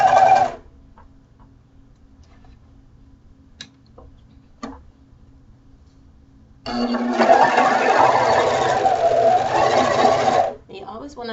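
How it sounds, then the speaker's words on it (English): A serger sewing leggings, a short whir at the start, then near silence with faint ticks, before a longer steady mechanical hum of the machine running for about four seconds. "You always want to leave a tail when you're using your serger."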